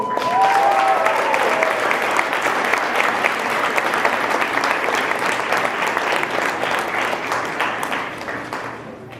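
A high school senior night audience applauds two honored students, sustained dense clapping that stays strong, then thins and fades near the end, with faint stray voices briefly audible early on.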